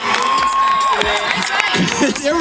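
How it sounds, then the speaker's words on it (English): Crowd at a cheer competition cheering and whooping, with children's excited shouts rising over a dense, loud burst of noise. "Please give them a round of applause."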